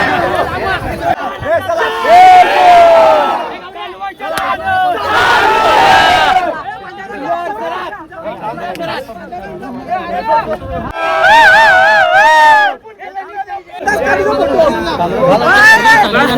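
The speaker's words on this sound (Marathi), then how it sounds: "गर्दी बघा गर्दी" A large crowd roars and chatters at a bullock cart race at Usatne ground, with loud, overlapping shouts and cheers in repeated waves, brief dips between surges.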